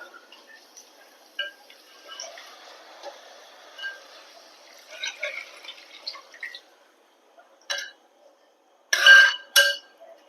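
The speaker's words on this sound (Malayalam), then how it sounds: "ഇനി നമുക്ക് ഇതിലേക്ക് ആവശ്യത്തിന് വെള്ളം ഒഴിക്കുക" Water is poured into a cooking pot for a boiled egg curry, heard as faint drips and short splashy pours, ending in two louder close bursts of running water.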